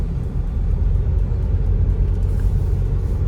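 A 2022 Isuzu MU-X on the move, heard as a steady low engine and road rumble from inside the cabin, continuous and fairly loud with no talking.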